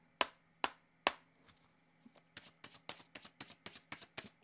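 Tarot cards shuffled and handled during a card reading: a few sharp separate slaps of cards early on, then a quick even run of riffling snaps, close and fairly quiet, with no talking.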